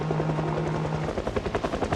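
A helicopter in the zombie survival game Project Zomboid thumps steadily with a rapid rotor chop, loud and continuous, with a low engine drone underneath and no talk.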